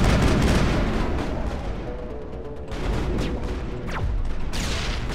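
Rough, dense gunfire from a firefight in the video game Mass Effect, with continuous rattling bursts and booming shots that fill the whole stretch at close range.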